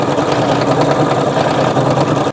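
A sewing machine runs a steady, close, loud stitch corner to corner across a fabric napkin for a basket, a continuous fast mechanical whir that stops abruptly at the end.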